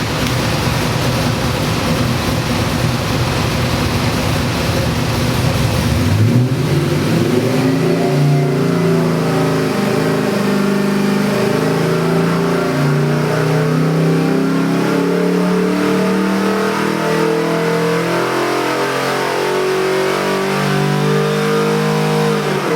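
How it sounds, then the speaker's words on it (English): A 383 cubic inch small-block Chevy stroker crate engine, about 500 horsepower with a roller cam, rumbles loudly and close, then climbs in a sustained rev and holds a high, steady drone with a wavering pitch. "let's make a few ponies with this little supposedly 500 horsepower motor"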